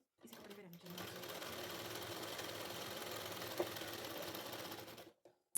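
A sewing machine running continuously to stitch a strip on a blouse with four tucks, a steady mechanical whirring of close, even needle strokes for about five seconds before stopping.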